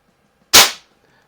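A single sharp crack from a JC Higgins CO2 pellet rifle, close and loud, set at two clicks, fading quickly into silence.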